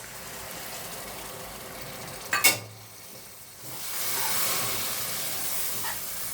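Water is poured into chicken masala frying in a pan for spicy methi butter chicken: a sharp splash bursts out, then a loud, steady steam hiss and sizzle fills the rest.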